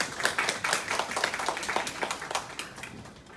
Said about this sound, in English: Let's give another round of applause for Winnie.